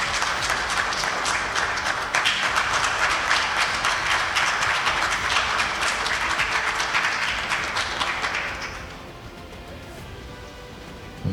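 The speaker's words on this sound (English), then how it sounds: "I think that deserves a huge round of applause" An audience at a budget competition finale breaks into sustained, hearty applause, dense and even for about eight seconds before fading to a quiet room tone.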